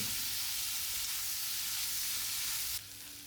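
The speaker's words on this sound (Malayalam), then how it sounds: "ഇതാ നമ്മൾ വറ്റൽമുളകും ചേർക്കുന്നുണ്ടല്ലേ വറ്റൽമുളക് കൂടി ചേർത്തിട്ടാണ് വഴറ്റുന്നത്" Onion, green chili and dried red chili sauté in a pan, giving a soft, even sizzling hiss that drops a little quieter near the end.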